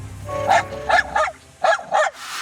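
A dog barks five times in short, sharp yips, close and loud, in two quick groups with a brief pause between them.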